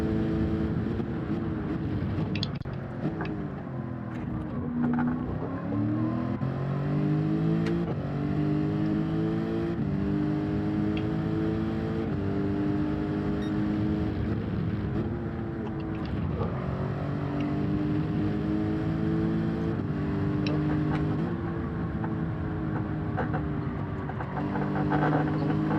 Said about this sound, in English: I was on the throttle late, didn't have the best entrance, and I ended up spinning the tires there